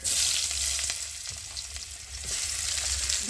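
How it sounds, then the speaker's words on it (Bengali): Onions and cumin frying in a pan for a fish curry, a steady loud sizzle with crackling throughout, close and alone. "জিরেটা ভালো করে ভেজে নিয়ে আর এখন আমি পেঁয়াজ দিয়ে দেবো"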